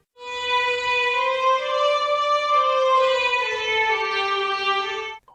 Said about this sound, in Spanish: en el caso del violín pueden tocarse las cuerdas con su característico arco